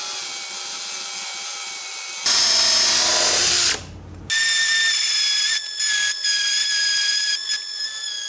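A power drill with a Forstner bit whines at high pitch, bores briefly with a rougher grinding burst, stops, then runs again with a steady whine.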